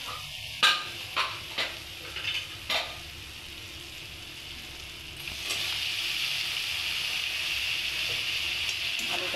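Boiled potatoes go into hot oil with a spice paste, a few clattering stirs and knocks of a spoon, then a steady bright sizzle settles in and continues to the end.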